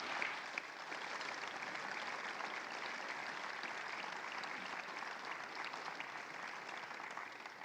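Steady applause from an induction ceremony audience welcomes Dr. Byron, a dense, even clapping that holds at moderate volume throughout.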